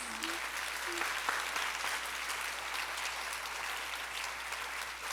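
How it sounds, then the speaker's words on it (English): An audience gives steady applause for the young dancer Shreya at her Bharatanatyam arangetram, dense even clapping that fills the hall, with a faint low hum underneath. "she deserves a big round of applause"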